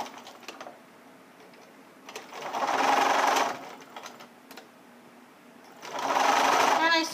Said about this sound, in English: And I sew about an inch away from that next seam and backstitch.